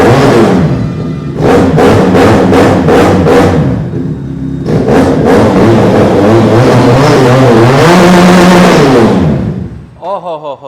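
A 400cc twin-cylinder motorcycle engine revved hard and bouncing off the rev limiter, loud repeated rising surges with choppy stuttering peaks, then a steady roaring rev near the end, with talk over it.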